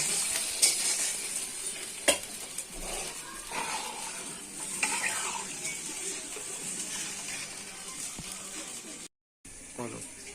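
Fried papaya dhoka simmer in a pan of curry with water just added, a soft bubbling sizzle under occasional clinks and scrapes of a utensil, with brief talk and a short dropout near the end.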